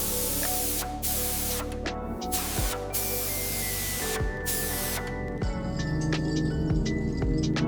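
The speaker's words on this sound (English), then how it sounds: "Here we apply a uniform coat of the gray epoxy primer to the CBR900RR frame." Spray gun laying gray epoxy primer onto a 1992 Honda CBR900RR FireBlade motorcycle frame: a steady close hiss with short pauses between passes, over a constant background hum and a few tonal whines.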